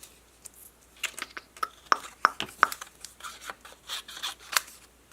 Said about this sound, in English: let me grab a scrap piece here, and I'm just going to cut it down